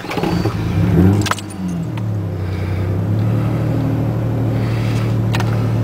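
A Ford Ranger pickup truck engine cranks briefly and catches, rising in a short rev before settling into a steady, loud, close idle that continues to the end, with a few light key or metal jingles near the start.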